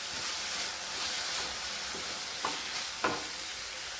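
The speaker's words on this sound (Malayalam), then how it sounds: "ഇനി ചേർക്കുന്നത് കറിവേപ്പില. നല്ലപോലെ ഇളക്കി കൊടുക്കണം." Sliced onions and curry leaves frying in a hot pan for onion theeyal give a constant close sizzle, with a couple of sharp spoon scrapes against the pan as they are stirred.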